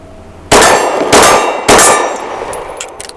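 An X-Tar magazine drops free from a BUL Armory Axe FS Cleaver pistol. Three loud, sharp metallic clangs ring out about half a second apart, each with a short ringing tail, followed by a few faint clicks.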